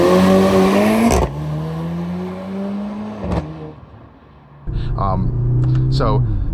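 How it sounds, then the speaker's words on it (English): Mercedes-AMG GLC 43 engine heard from inside while driving, a loud steady drone that drops off, pauses, then picks up again with rising revs, while a person talks over it. "there is a little bit of some pumped in engine sound"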